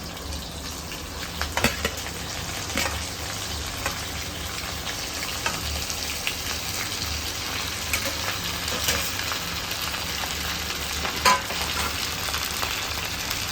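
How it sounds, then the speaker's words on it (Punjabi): Chopped okra hits hot oil with browned cumin in a kadai, giving a steady broadband sizzle and crackle with faint stirring clicks, continuous and close throughout. "ਜਦੋਂ ਜੀਰਾ ਲਾਲ ਹੋ ਗਿਆ ਤਾਂ ਆਪਾਂ ਜਿਹੜੀ ਕੱਟੀ ਹੋਈ ਭਿੰਡੀ ਹੈ ਕੜਾਈ ਵਿੱਚ ਪਾ ਦੇਣੀ ਹੈ"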